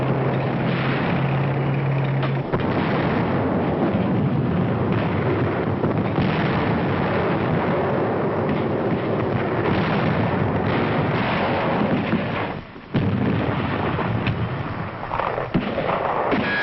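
WWII battle at Kwajalein in 1944, with a dense, continuous roar of explosions and gunfire, loud and unbroken for the whole stretch, with one brief dip near the end.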